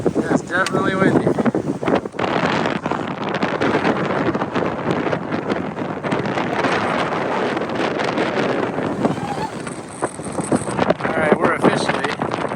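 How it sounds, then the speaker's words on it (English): Strong wind on the summit of South Sister volcano in Oregon roars and buffets the microphone continuously and loudly throughout, with brief voices near the start almost buried beneath it. "That's definitely windy."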